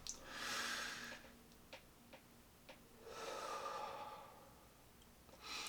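Slow, deep belly breaths drawn in and let out close to the ear, two long airy swells separated by a quiet pause with a few faint clicks, and no talking.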